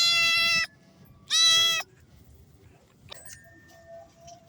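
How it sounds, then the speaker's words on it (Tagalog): Cats in a rural Philippine home give two loud, close meows about a second apart, followed by a quieter, shorter cry and soft background noise. "Nakakatuwa yung mga pusa."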